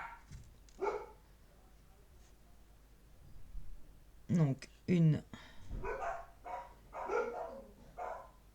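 Several house dogs bark sharply in short bursts at someone ringing the doorbell, the yelps mid-distance and fairly loud, while a person speaks quietly in between.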